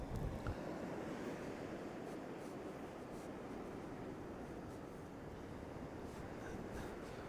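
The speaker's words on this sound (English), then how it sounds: "Wow, the wind is amazing at the moment. Really blowing for it." Strong wind blowing on a Scottish coast with waves washing onto sand and rocks, a constant roaring rush of wind and surf close to the microphone, with no voices.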